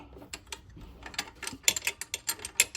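A ratchet wrench clicks in quick, uneven bursts while loosening the return line on a Buick Grand National during a turbo install, close and fairly quiet with no talking.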